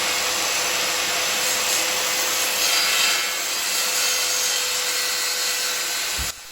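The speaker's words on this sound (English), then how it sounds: "Ensure that the saw blade is not in the way of the cord or wire and that you're slightly offset, from the working tool when cutting through the plywood" A circular saw cuts through plywood, giving a loud, steady whining rasp of blade through wood that holds for several seconds before cutting off abruptly at the end.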